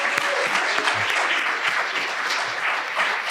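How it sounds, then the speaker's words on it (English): Audience applause for the inaugural 2023 Physician Assistant class at an awards ceremony, steady dense clapping filling the room from start to finish. "Let's give them a round of applause."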